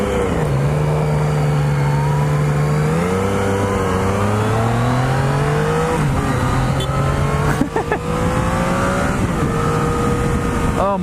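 A 2016 Yamaha XSR900 motorcycle engine pulls hard in fourth gear, its loud, close drone rising steadily in pitch through each gear with a brief shift dip, continuous throughout with no talk.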